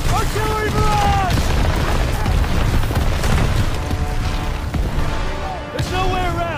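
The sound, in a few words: artillery barrage explosions in video game Call of Duty WW2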